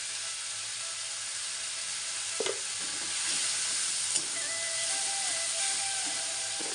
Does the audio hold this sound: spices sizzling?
yes